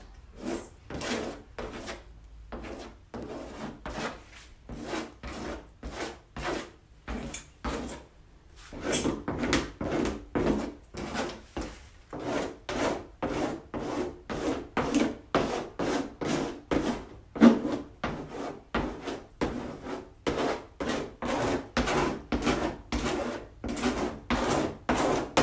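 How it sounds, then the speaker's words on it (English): A blade scrapes wax across a painting surface in an art studio, making a long run of steady, rhythmic rasping strokes, close and fairly quiet, with no talking. "the collection of wax that I've scraped off my blade, I'm letting it grab itself back down on the surface"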